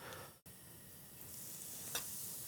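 Chicken pieces fry in a pan of hot oil that is starting to smoke, giving a steady, moderate sizzle with a brief stir or clatter partway through and no voices.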